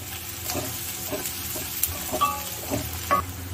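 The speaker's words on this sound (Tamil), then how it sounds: "வெங்காயம் பூண்டெல்லாம் நல்லா இப்போ நம்மளுக்கு ரோஸ்ட் ஆகிடுச்சு" Onions and garlic fry in a pan while a spoon stirs them, a low steady sizzle broken by soft scraping strokes and a few brief metallic clinks, close and moderately quiet with no talking.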